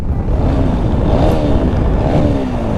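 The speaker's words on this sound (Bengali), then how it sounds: "একটু থ্রোটল শুনবেন" A loud motorcycle engine with an aftermarket exhaust revs steadily up close, its throttle rising and falling in a continuous rumbling roar with no one speaking.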